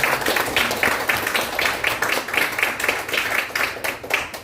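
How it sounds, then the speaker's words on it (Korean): A church congregation at a Sunday service with officer appointments claps in a quick, even rhythm, the bursts close and moderately loud for several seconds. "박수해 주시기 바랍니다"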